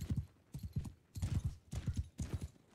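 Cavalry horses in Mount & Blade 2 Bannerlord gallop in a clear rhythmic clip-clop, with hoofbeats arriving in repeated bursts of several strikes each, moderately loud and with no talking.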